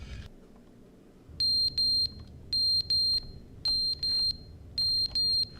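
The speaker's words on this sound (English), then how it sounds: "Fire alarm?" Fire alarm in the video game The Stanley Parable: loud, shrill electronic beeps in quick pairs, repeating steadily over a low hum with no talking.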